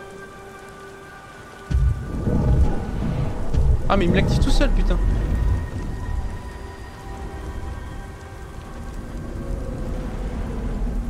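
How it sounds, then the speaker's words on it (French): Steady rain pours in the video game Beyond: Two Souls while a loud thunder rumble rolls in partway through; someone talks over the storm. "J'en ai ma claque de toute cette pluie."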